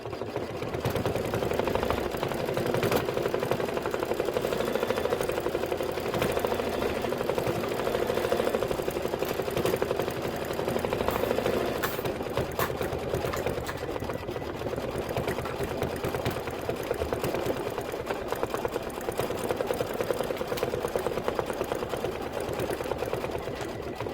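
An embroidery machine works a satin stitch on a pillow block, humming and clattering steadily at close range for the whole stretch with no pauses.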